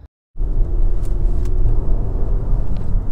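A Honda Civic 1.8 i-VTEC SR petrol engine starts and idles, a steady low rumble close by that follows a short silence, with a few faint clicks over the top.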